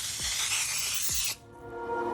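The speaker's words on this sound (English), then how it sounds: "I am spraying a 9 by 13 pan to keep the cake mix from sticking." A loud, continuous hiss of cooking spray onto a 9 by 13 baking pan lasting over a second, with a couple of low thumps, then it cuts off abruptly.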